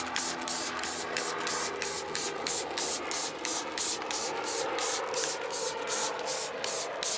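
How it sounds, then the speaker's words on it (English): A handheld spray bottle of water mists onto a car floor mat, a rapid series of short, sharp hissing spritzes repeated in an even rhythm, close and fairly loud over faint background noise. "And then I'm going to use a spray bottle of water."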